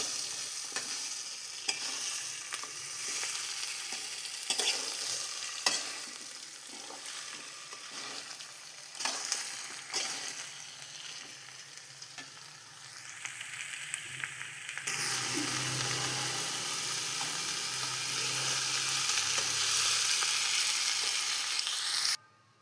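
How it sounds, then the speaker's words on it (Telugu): Pieces of broad bean pod are stir-fried in a pan, giving a steady sizzle with repeated scraping and stirring clatter. The frying grows fuller and louder toward the end, close up and with no voices. "మనం పిండి పక్కన పెట్టుకున్న చిక్కుడుకాయల ముక్కలను కూడా ఇందులోనే వేసి ఫ్రై చేయండి."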